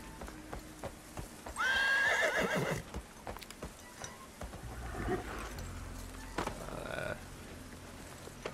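A horse in the video game Desperado III gives a loud, rising whinny, with clip-clopping hooves and scattered game sounds around it.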